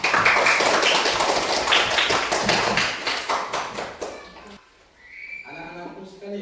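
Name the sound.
applause from a class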